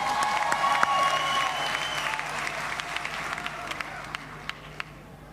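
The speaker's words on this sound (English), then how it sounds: "let's give him a round of applause" A crowd at a political speech gives a round of applause, a soft, distant wash of clapping with scattered sharper claps standing out, fading slightly toward the end.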